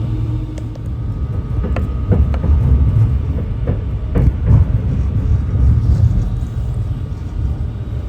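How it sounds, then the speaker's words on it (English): A steady low rumble of a train rolling past nearby, with faint rattles and clanks over the continuous roar. "There's your train."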